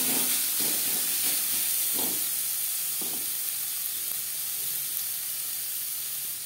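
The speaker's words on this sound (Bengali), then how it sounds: "মশলার সাথে টমেটো বেশ ভালো করে মিক্স করে দেবো" Chopped tomato being stirred into fried spices in a pan for a chickpea lentil dish: a strong steady sizzle and hiss with a few soft stirring scrapes and clacks, close, with no talking.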